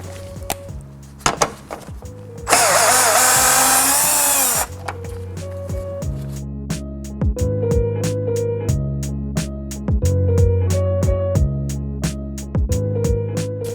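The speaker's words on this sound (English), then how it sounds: "we're just gonna be doing that with a 10mm socket and a power drill" A power drill with a 10mm socket removes bolts on a 3rd-gen Toyota Tundra headlight, whirring in short repeated bursts, each spin rising and stopping, with one longer high-pitched run near the start; close and loud.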